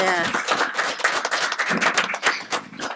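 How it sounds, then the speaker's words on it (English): An audience at a California Department of Consumer Affairs hearing claps in a round of applause, with a few close, distinct claps among a lively patter, and a voice talking briefly at the very start. "If we could all give a round of applause for Alana."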